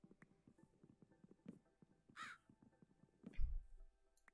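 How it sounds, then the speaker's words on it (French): A crow caws in a modded Minecraft game set in a forest biome, one clear call standing out mid-clip over soft repetitive footstep-like clicks and low game ambience, with no talking. "C'est un corbeau."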